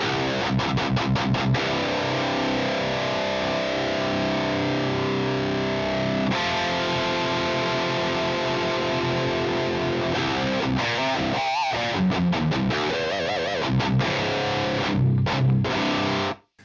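Heavily distorted electric guitar through a Marshall 1987X Plexi amp with jumped channels plays sustained chords and riffs, loud and dense throughout, with brief pauses and a few sharp stabs near the end.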